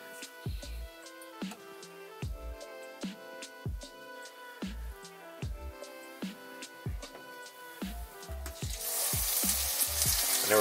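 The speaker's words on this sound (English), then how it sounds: "Got the cast iron heating up. I'm going to throw some olive oil on the bottom and we'll let that heat up some." Kimchi fries in hot olive oil in a cast iron pan. Crisp pops and crackles come at a steady pace, then build into a fuller, continuous sizzle near the end, with no talking.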